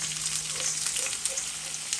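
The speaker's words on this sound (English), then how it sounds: "So here I have my rice that I already washed earlier, and I'm just going to add this into the oil." Washed rice tipped into hot oil for a Guyanese cook-up rice, giving a strong, steady sizzle with crackling pops, close and continuous with no voices.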